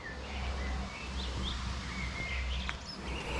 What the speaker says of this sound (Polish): Słuchajcie, ptaki się radują.